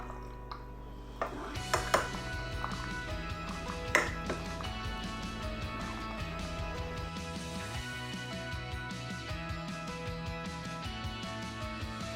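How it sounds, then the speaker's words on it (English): Pasta is stirred into a pan for BBQ chicken pasta, with a few metallic clinks and scrapes early on, then soft stirring beneath steady background music. "but you just use whatever pasta you want to use. So in with that, and just stir that in."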